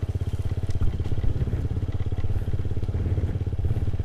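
Suzuki Satria FU motorcycle engine running with a loose, noisy cam chain, a close steady rapid ticking clatter over the idling thrum with slight throttle swells, no talking.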